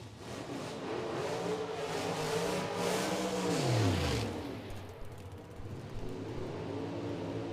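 A drag racing Mustang and another car accelerate hard down the strip at the PDRA Thunder Valley Throwdown, a loud engine roar with a falling pitch sweep as the car passes, then fading into distant rumble.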